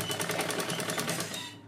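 A sewing machine stitches steadily around the edges of a ready-made nightie being taken in to a smaller size, its rapid rhythmic needle clatter running continuously and close up before easing off at the end.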